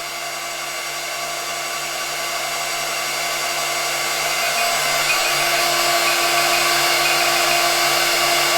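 A Vevor CNC router spindle driven by an A2-8022 VFD runs in at 20,000 RPM, giving a continuous high-pitched whine and airy rush that grows slightly louder without any pause.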